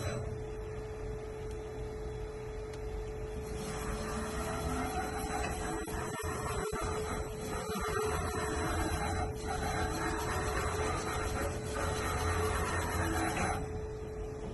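A steady machine hum and whir runs throughout, with the motor drone of a 2006 Sharp SV-2412 CNC mill shifting slightly as the Z-axis ball screw moves, close and continuous, with no talking.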